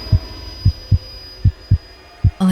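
Heartbeat sound effect in an animated horror story, loud deep thumps repeating at a slow, slightly uneven pace with quiet gaps between beats.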